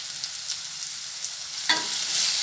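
Finely chopped tomato frying with softened onions, ginger and garlic in a pan, a close, steady hiss with a few soft scrapes of stirring, and a brief louder stir near the end; no talk.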